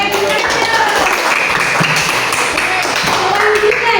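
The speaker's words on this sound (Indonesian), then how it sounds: "kasih tepuk tangan" Loud clapping from a group of students fills a school classroom, dense and continuous, with voices mixed in underneath.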